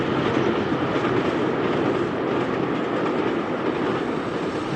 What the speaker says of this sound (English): Derek toots very quickly by, behind Tidmouth sheds with a retro memorabilia train